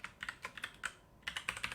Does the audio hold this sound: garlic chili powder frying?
no